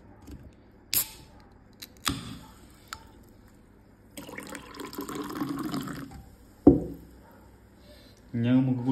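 Soda poured into a glass of beer: a gurgling, splashing stream lasting a couple of seconds, followed by a fizzing hiss, set among scattered knocks and clinks of glass and bottle, close by.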